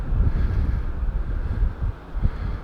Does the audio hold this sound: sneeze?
no